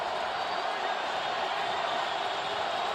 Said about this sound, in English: now on 3rd and long, this crowd is getting cranked up